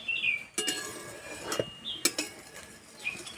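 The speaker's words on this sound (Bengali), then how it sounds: "এবার চাপাটা খুলে দেব।" The lid of a frying pan comes off over eggs cooking in oil in a wok, giving sharp metallic clanks and clinks at close range, with a faint sizzle between them.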